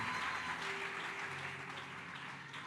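Steady applause from a church congregation during a prophetic teaching service, continuous and fairly even throughout without any voice on top.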